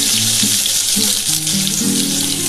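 Carrot and onion crackle in hot oil in a pan while mutton keema dal is being cooked, a dense, steady sizzle held close and loud throughout, with no voices.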